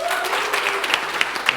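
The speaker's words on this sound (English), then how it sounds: "No better way to close a wonderful presentation than a humongous round of applause." Applause from a conference audience closing a private cloud cost management presentation, dense and steady through a short stretch with a few sharper claps standing out, a faint voice mixed in beneath.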